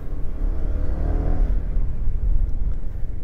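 A FKM Slick 400 maxi scooter engine revs under throttle, a steady low rumble with rising whir swelling mid-way, close and continuous without talk.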